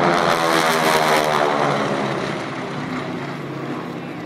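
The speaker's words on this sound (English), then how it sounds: "As they come in, they'll show you the bottom side and the overlap of their precision formation flight." Propeller aircraft in precision formation flight pass at an air show in Stuart, Florida, with a loud, steady droning engine roar that slowly fades as they move away.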